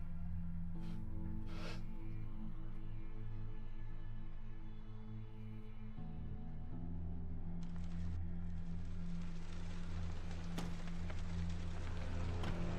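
Steady rain hisses through a horror video game, spreading into a denser, brighter wash in the second half over a low, droning hum, with no voices.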